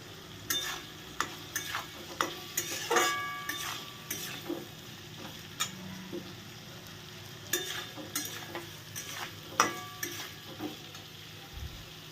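Onions fry in oil in a pan and are stirred, a soft continuous sizzle broken by regular close scrapes and taps of a spoon against the metal, with no talking.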